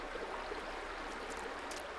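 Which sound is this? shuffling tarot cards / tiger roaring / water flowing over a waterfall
water flowing over a waterfall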